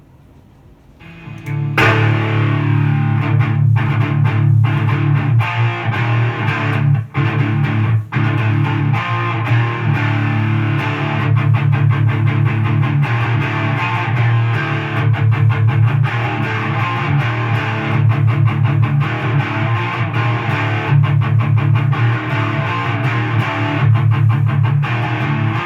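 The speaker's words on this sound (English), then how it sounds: "So now onto the Danelectro Fab Distortion." An electric guitar played through a Danelectro Fab Distortion pedal gives a loud, gritty, sustained distorted tone after a short quiet start, with chugging strummed chords and repeated muted picking throughout, with no talking.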